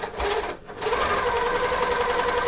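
Serger overlock machine stitching fabric while its blade trims the edge: a loud, fast, even mechanical whir that runs throughout, dipping briefly near the start before resuming.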